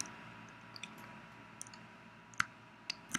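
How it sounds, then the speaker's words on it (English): Several soft computer mouse clicks during pen tool work in a graphics program, sparse and close with short gaps between them. No one talks. "I do find that it's much easier to do a shift click."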